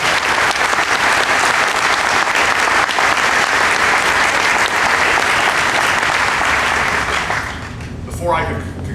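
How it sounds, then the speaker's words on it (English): A crowd applauds at a medical school groundbreaking ceremony, with loud sustained clapping for about seven seconds that then tapers off as a voice begins near the end. "Let's give our future healthcare professionals a big round of applause."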